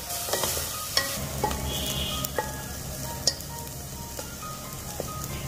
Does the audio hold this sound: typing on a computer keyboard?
no